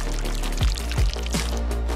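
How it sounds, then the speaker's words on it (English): Melted white chocolate is poured from a bowl into a square candy mold, a steady close pouring sound with a couple of brief gurgles over a constant background hum. "Now pour it into this mold."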